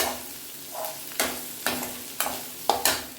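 Shallots with vadagam and curry leaves sautéed in a pan for tamarind kuzhambu, a soft steady sizzle broken by five or six sharp scraping stirs of a spoon against the pan.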